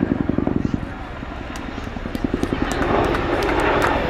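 An RAF Chinook helicopter at an air display, its two 5,000-horsepower engines giving a loud pulsing rotor thump that rises into a steady heavy roar, heard from a distance with a voice speaking over it.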